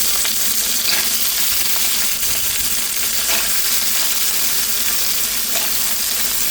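Chicken pieces sizzle and fry loudly in a hot pan for a Filipino pipis dish, a dense continuous crackle with a few faint clinks, close up and alone.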